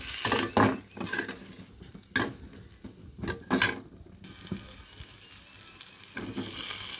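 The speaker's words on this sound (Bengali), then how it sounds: "এবার ভালো করে আমি এটাকে কষতে থাকবো।" Tomato with turmeric and salt is stirred in a pan, a close, continuous sizzle broken by repeated scrapes and clinks of the spoon against the metal.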